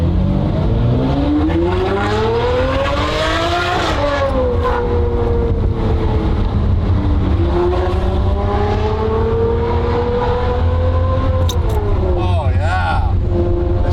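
A tuned 600 hp Ferrari V12 revs hard through rising and falling sweeps, loud and close, with a brief pause between pulls and a voice talking over the engine.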